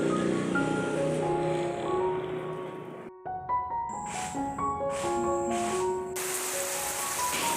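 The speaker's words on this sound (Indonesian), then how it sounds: "ini tiba-tiba hujan, dan ini hujannya tuh yang deras banget gitu" Heavy rain pours down steadily as a dense, loud, continuous hiss close by, with no talk over it.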